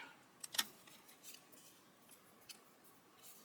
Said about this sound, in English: Trim as we go.